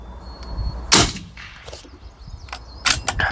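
An Airforce Condor air rifle fires slugs at targets about 110 yards away, with a few sharp, loud cracks spaced irregularly over a faint outdoor background.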